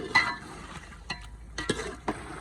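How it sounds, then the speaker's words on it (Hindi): A spoon scrapes and stirs through a pot of matar chicken pulao just after salt goes in, giving several short, separate clinks and scrapes with quiet pauses between them, close by. "नमक शामिल करने के बाद एक बार चम्मच चला देंगे।"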